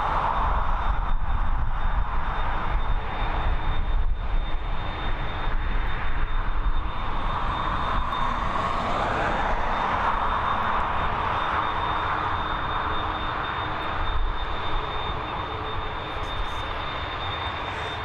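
Boeing 737 MAX arriving at Dublin Airport from Edinburgh, a steady, broad engine roar that holds loud for the whole stretch and swells slightly midway, with a faint high whine running throughout.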